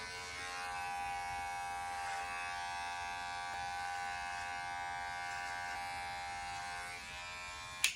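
Electric hair clippers with a 3 guard and open lever trimming a mustache and goatee, a close, steady buzzing hum running throughout with a small click at the end.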